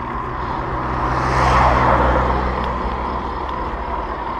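Traffic on a road without a bike path, heard from beside a cyclist: a steady hum of cars, with one vehicle swelling nearby and then fading as it passes.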